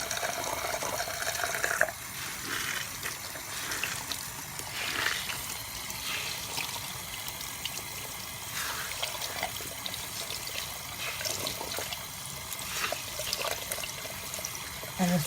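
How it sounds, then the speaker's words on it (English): Very hot water streams steadily from a tap while a makeup beauty blender is rinsed and squeezed under it by gloved hands, giving a continuous close splashing rush with occasional gurgles and drips. "And this water is super hot."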